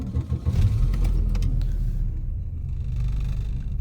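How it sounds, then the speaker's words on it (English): An old Volvo car engine idles while warming up on a dark early morning, a steady low rumble that runs unbroken and fairly loud, with no voices over it. "While the engine is warming up"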